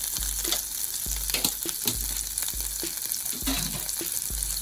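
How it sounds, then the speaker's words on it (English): Homemade sofrito fries in a pot with rice, a steady close sizzle overlaid with rhythmic low thumps and spoon scrapes as it is stirred. "So now I'm going to be putting some of my homemade sofrito in there."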